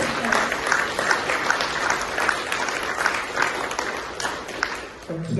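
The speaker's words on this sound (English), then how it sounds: "please welcome Matt and give him again a round of applause." A crowd at an outdoor anti-war rally claps for an incoming speaker, loud, close and continuous, fading slightly near the end as a voice begins.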